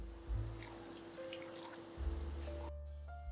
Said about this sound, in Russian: Вливаю 100 мл воды.